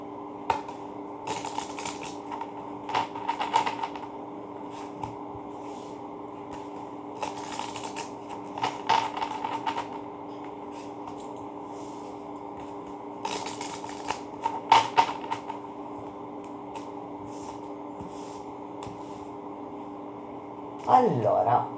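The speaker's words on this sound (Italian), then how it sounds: "Le carte stamattina non vogliono mescolarsi." Playing cards are shuffled repeatedly in bursts of riffling and flicking, with a steady electrical hum in the background and no talking.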